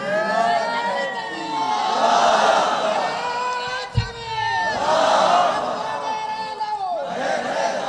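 A crowd at a religious gathering shouts the takbir in unison, rising in three loud, roaring vocal swells, each fading before the next chant begins.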